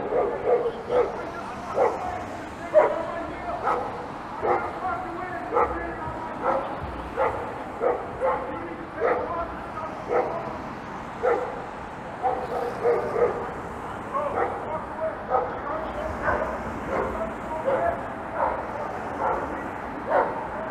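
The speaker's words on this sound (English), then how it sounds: "Barking German Shepherd." A German Shepherd barks steadily and repeatedly on a winter Saturday evening along Bloor Street West in Toronto, some twenty loud, evenly spaced barks over a low street hum.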